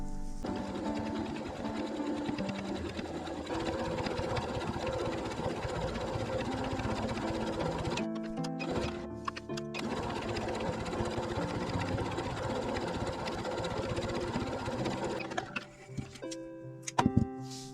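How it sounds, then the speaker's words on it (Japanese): A sewing machine edge-stitches fabric in a steady, fast whir, pauses briefly midway, then stitches on before stopping with a few clicks. "端ミシンをかけておきます。"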